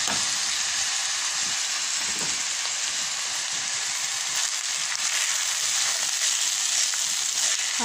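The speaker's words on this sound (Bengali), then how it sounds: "বিরিয়ানির জন্য আমি চালটা ভেজে নিচ্ছি" Rice fries in a pan for biryani, giving a continuous, even crackling hiss like light rain, steady and moderately loud throughout with no talking.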